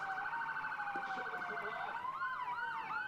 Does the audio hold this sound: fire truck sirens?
yes